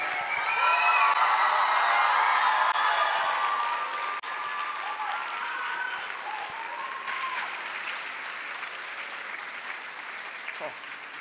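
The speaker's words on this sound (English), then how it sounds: "I think this moment calls for maybe one more round of applause. Maybe some whooping and screaming while we're at it" A graduation crowd of students and families claps loudly while whoops and high cheers ring out over it, the noise swelling early then slowly easing off, with voices mixed through.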